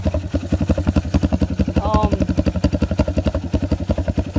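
A motorcycle engine after carburetor repair, with a slight bog on throttle, runs steadily near at hand in a fast, even chugging pulse; a brief whine rises mid-clip.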